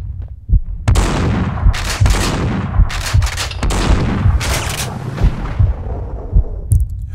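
Gunfire in the video game Max Payne 2, loud repeated shots with heavy low thumps and bright cracks arriving in rapid irregular bursts over a continuous noisy din, with no talk.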